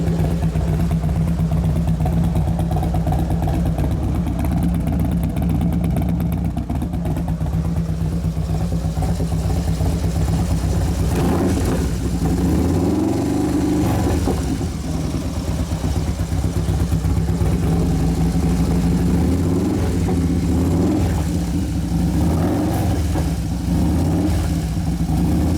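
A 2011 Harley-Davidson Road Glide twin cam motor runs steadily throughout, a continuous low engine drone with some rising and falling revs near the middle, loud and close.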